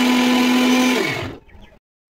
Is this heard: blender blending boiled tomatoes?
yes